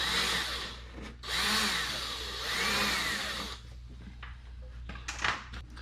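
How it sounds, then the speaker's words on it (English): A power drill bores through a Viking motorcycle saddlebag in three loud, sustained bursts, each a high whine under load, followed by softer clicks and handling noises. "let's see if I can drill this out without drilling through my finger"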